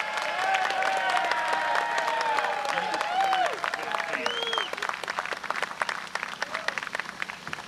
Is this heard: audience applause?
yes